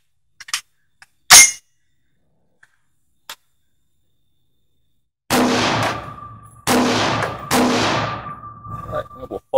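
Three loud, sharp shots from an AR-15 rifle fitted with a Dead Foot Arms folding stock, evenly spaced and ringing out outdoors, preceded by a few faint clicks and handling noises.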